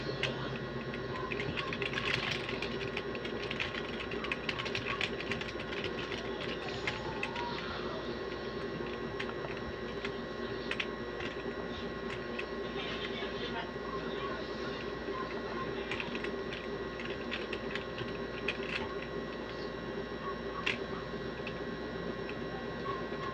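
Steady, rapid keystrokes on a computer keyboard as a name is typed, close and fairly quiet, with a constant hum of room noise underneath and no one talking.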